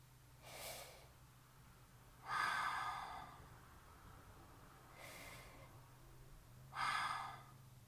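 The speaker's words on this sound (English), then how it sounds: "Take a few slow, full, sleepy breaths here." Four slow, full breaths drawn in and let out through the nose during a calm mindfulness exercise, each one soft and airy with long pauses between, close and alone without talk.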